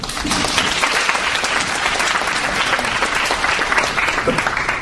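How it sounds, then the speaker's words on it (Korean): An audience at a presentation contest applauds to welcome a presenter, a loud, dense and continuous round of clapping with a few crowd murmurs mixed in. "박수로 맞아주십시오."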